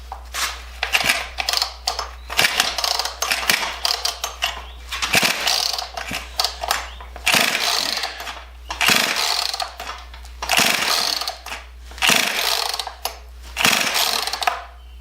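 A Poulan Pro 295 chainsaw with ignition and choke on is pull-started repeatedly without firing, each loud ratcheting rip of the recoil cord followed by a short pause, over a constant low hum.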